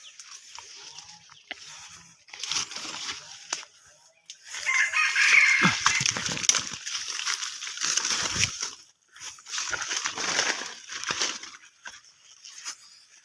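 A red junglefowl rooster crows repeatedly outdoors in long, harsh, drawn-out calls, fairly close and loud, with softer bird and ambient noise between crows.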